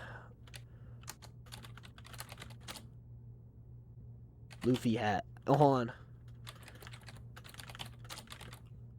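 Quick computer keyboard clicks sound through a desktop session, sparse taps at first and then denser bursts toward the end, with a person talking briefly in the middle over a low steady hum.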